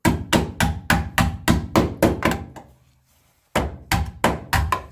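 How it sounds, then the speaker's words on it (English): A hammer strikes the welded rear wheel arch of an Austin Mini in quick, even blows, loud and close, then stops for about a second before another short burst of sharp metallic knocks. "Passing the hammer test, so that's good enough for me."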